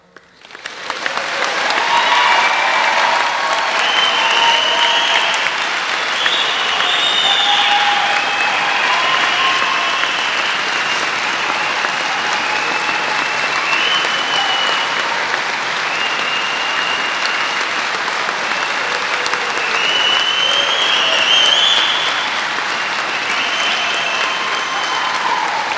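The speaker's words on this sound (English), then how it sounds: "So I would like a quick round of applause because all these cadets deserve recognition for their hard work and change." Sustained audience applause for cadets at a commencement ceremony, a dense, steady wash of clapping from a large crowd that swells in within the first second and holds loud and even for over twenty seconds with occasional scattered cheers.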